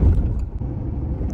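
A manual car's engine runs during a driving lesson, a loud, close, steady low rumble that holds evenly for a moment without voices.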